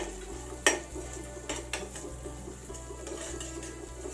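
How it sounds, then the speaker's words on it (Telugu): Cashews stirred in a pan while lightly roasting, a few sharp clanks of the spoon against metal over a low background hum, with soft scraping between the knocks. "వేసుకొని వీటిని ఒకసారి బాగా కలుపుకోవాలి. లైట్గా వేయించుకోవాలి."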